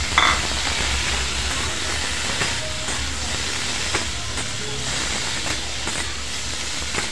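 Red pumpkin pieces dropped into a hot spiced oil tempering, giving a loud, steady, broadband sizzle and hiss that holds evenly throughout with faint clinks.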